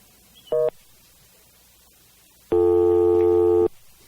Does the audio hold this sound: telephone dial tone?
yes